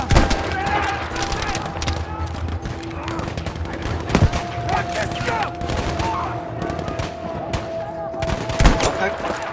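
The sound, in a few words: gunfire from big guns in Battlefield V video game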